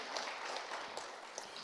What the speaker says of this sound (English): A round of applause for our chair of this session